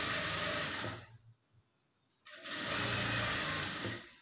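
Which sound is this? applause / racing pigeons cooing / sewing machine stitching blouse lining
sewing machine stitching blouse lining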